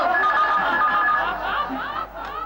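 A telephone rings in a Hindi TV drama scene, a continuous ringing tone heard close and fairly loud with faint chatter and a snicker mixed underneath.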